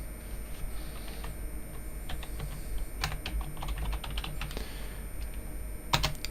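Rapid, irregular clicking of a computer keyboard as a folder name is typed on a Windows PC, with a few louder keystrokes near the end; close and steady, with no voices.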